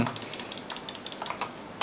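Rapid, light clacking of WASD keys on a Corsair K70 MAX mechanical keyboard during gameplay, a steady flurry of quick taps close to the microphone.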